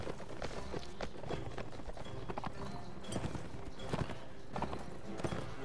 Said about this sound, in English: That stupid horse.